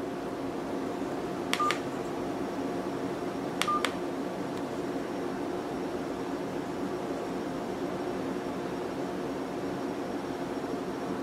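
Keypad tones sound on a Snapfon ezTWO cell phone while a code is entered, two pairs of short beeps about two seconds apart over a steady background hiss.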